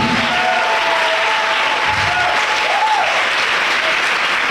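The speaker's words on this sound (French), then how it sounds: "Acclame Jésus" A church congregation applauds during a prayer and testimony service, with continuous loud, dense clapping filling the space throughout and faint voices underneath.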